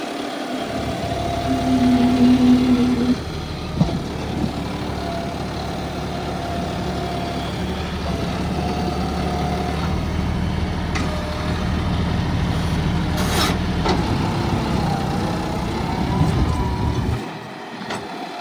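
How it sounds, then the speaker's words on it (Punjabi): A John Deere 5210 tractor with no added wheel weights pulls a plough, its diesel engine droning low and steady up close, with a brief higher whine early on and a sharp knock around mid-pass. "ਵੇਟ ਤੋਂ ਬਿਨਾ ਸਲਿੱਪ ਮਾਰਦਾ ਟਰੈਕਟਰ"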